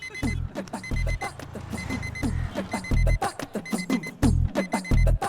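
An electronic alarm clock beeps in fast repeating bursts, loud and close, with a rapid pulsing rhythm that continues throughout.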